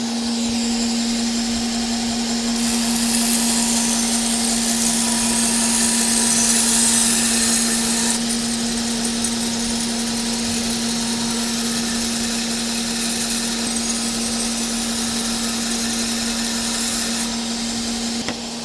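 A custom-built grinding machine in a Japanese knife factory working a blade, a steady loud whining grind with a constant hum running unbroken throughout, no voices.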